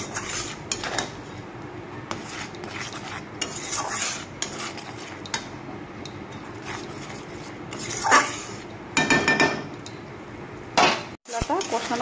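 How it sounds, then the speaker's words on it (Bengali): Spatula scraping and clinking in a pan as masala with salt and turmeric is stirred and fried for a parwal curry, intermittent metallic scrapes and clatters, some louder bursts, close by. "মশলাটাকে আমি ভালোভাবে কষিয়ে নিব।"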